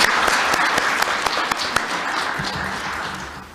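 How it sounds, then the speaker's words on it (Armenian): Applause fills a government meeting hall in Armenia, a dense steady patter of many hands with a few sharp individual claps standing out, gradually thinning toward the end. "առաջարկում եմ ծափերով ողջունենք"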